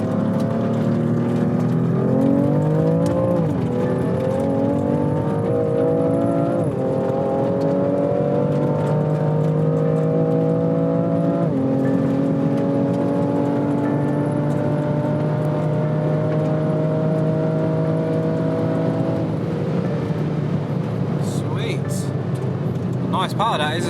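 A car engine revs and accelerates hard, its pitch climbing through several gear changes, loud and close, with people talking briefly over it.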